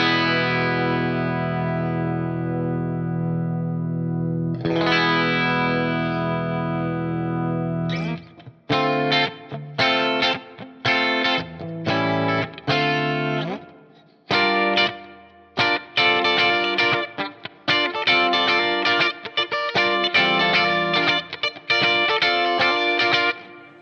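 A clean electric guitar, a vintage Arbiter Les Paul on the bridge pickup, with a shimmering chorus and reverb plays sustained chords, then a rhythmic run of choppy strummed chords, loud and close.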